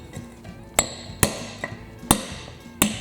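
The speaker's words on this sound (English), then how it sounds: "I'm gonna press them in and out with this punch and hammer." Sharp metal hammer strikes on a punch driving a worn bushing out of a John Deere steering spindle, five or six distinct close blows spaced unevenly with ringing metallic clinks and a quieter tap between.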